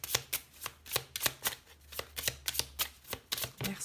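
Oracle cards being shuffled by hand in a run of crisp, close riffling bursts, roughly a dozen in quick rhythmic succession, with no talk over them.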